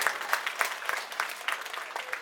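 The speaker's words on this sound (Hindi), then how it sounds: "पहले एक बार कार्यकर्ताओं के लिए जोरदार तालियां आप लोग बजा दें" Loud crowd applause for party workers at an Aam Aadmi Party public rally in Mustafabad, Delhi, a brisk, dense clapping with a lively pulsing rhythm throughout.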